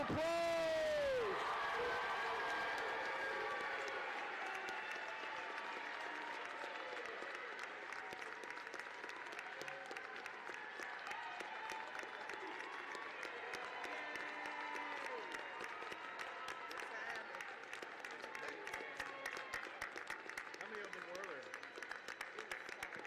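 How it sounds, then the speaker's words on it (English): Sustained crowd applause for graduates at a community college commencement ceremony, a dense steady wash of clapping with occasional cheers and whoops from a large audience, loud at first and holding level throughout. "let's give all of our graduates a big round of applause"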